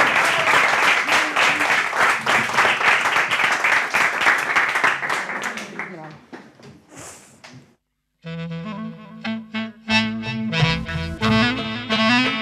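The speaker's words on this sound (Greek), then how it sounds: "Δώστε θερμό χειροκρότημα και πάμε" Applause at an Easter music show, a dense burst of clapping for about six seconds that thins out and fades, followed by a pause and then live music starting up.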